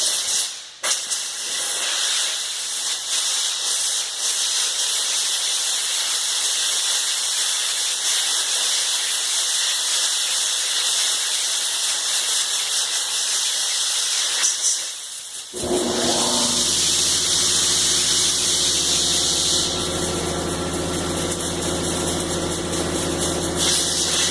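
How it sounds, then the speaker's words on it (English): Compressed air hisses steadily and loudly while blowing debris out of chainsaw parts during maintenance, a long continuous blast, then an air compressor kicks on with a low rumbling hum beneath the hiss. "And really, I'm talking really blow all this out really well, and then whatever's left you can come in and blow this."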